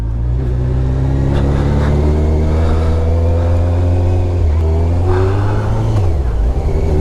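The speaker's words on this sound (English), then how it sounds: "Yeah, that 1137cc engine sounds good." A Honda CBR1100XX Blackbird motorcycle's 1137cc engine revs and accelerates steadily, a loud, close, continuous drone rising in pitch with a gear shift near the end.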